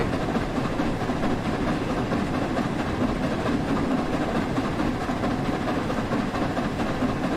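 Flying Scotsman steam locomotive in Train Sim World 4 running steadily at around 40 mph, a continuous loud rumble of rolling wheels and engine noise with a steady low hum and no talk.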